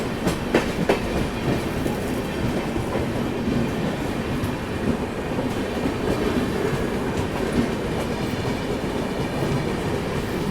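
The Shatabdi Express passes close by on its Chennai to Bengaluru run, a loud continuous rumble with rhythmic clickety-clack of wheels over rail joints sustained for the whole stretch, with no voices.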